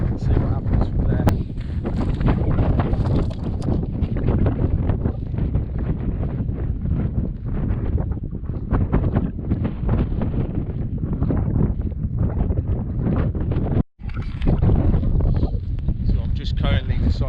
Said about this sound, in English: There's a little bit of wind, which I'm hoping is going to drop off.